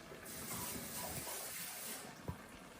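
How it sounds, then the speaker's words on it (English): Water runs into an emptied can of crushed tomatoes and swirls around inside it, a steady close hiss of flow with one small metallic knock near the end. "I like to rinse this with water and use the water"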